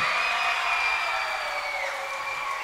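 Audience applause during a music history lecture-performance, a steady wash of clapping from a crowd, moderately loud and continuous, with no one speaking over it.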